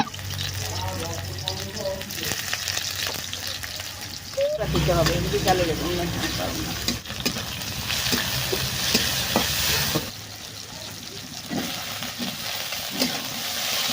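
Black cumin and dried chillies sizzle and crackle in hot oil, stirred steadily in a pan, under intermittent talk in a home kitchen.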